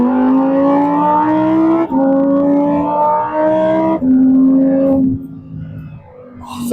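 Lamborghini Huracan Tecnica V10 accelerating hard on the street, a loud screaming engine note rising through three gears with brief shift breaks, then easing off and fading at the end.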